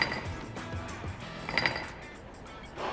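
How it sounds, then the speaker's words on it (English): A filling machine's agitation blade, no longer spinning, gives off light metallic clinking and rattling, soft and close, with a few sharper clinks. "And you can hear that kind of metallic rattling noise."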